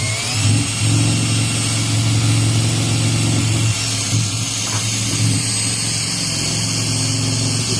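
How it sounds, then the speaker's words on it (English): A power drill whirs loudly and continuously, boring straight into scrap timber for a beehive build, its motor pitch dipping partway through as it bites into the wood. "you start off by drilling straight in"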